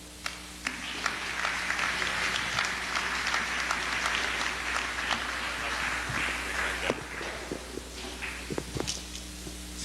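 Audience applause at an evening lecture event, a continuous crowd of hands clapping at steady moderate level with scattered sharper individual claps, faint voices underneath and the clapping thinning toward the end.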